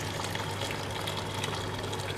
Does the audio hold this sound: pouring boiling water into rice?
yes